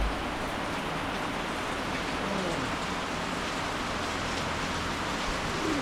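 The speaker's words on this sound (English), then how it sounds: "we woke up to dumping rain" Heavy rain pouring down on the Si Phan Don islands in Laos, a steady, unbroken hiss of water at even loudness throughout.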